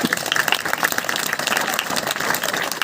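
A crowd applauds with dense, steady clapping that fills the whole stretch, loud and continuous without a break.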